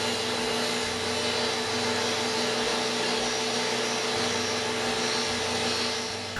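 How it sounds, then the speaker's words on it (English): A router table fitted with a roundover bit machines the edges of freshly cut wood in a garage workshop: a steady, loud, high whine with a constant motor drone throughout, no talk. "Over on the router table, and I've got a simple roundover bit set up to just take the sharp edges off the recently machined wood."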